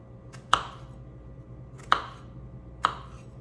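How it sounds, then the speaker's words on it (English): Knife slicing through strawberries onto a cutting board, three sharp separate chops spaced about a second apart, crisp and close over a quiet background, no talking. "So I'm just going to slice these."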